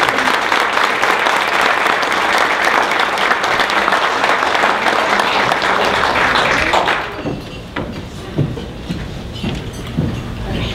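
Crowd applause at a county Republican Lincoln-Reagan gala as the state party chair is introduced, a dense sustained clapping that drops abruptly after about seven seconds to scattered claps and room noise.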